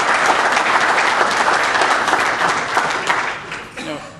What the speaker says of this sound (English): let's put our hands together and give a warm round of applause for the Honorable Rashawn Baker, County Executive, Prince George's County